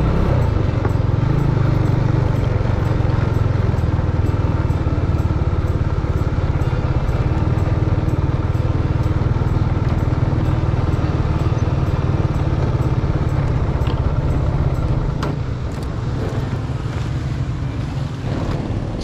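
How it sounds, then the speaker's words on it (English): A Benelli TNT 25 Tornado Naked, a small sport naked motorcycle, rides along a road with a steady low engine drone and heavy wind rush across the microphone, holding a constant pace throughout. "that's the bike, the Benelli TNT 25 Tornado Naked"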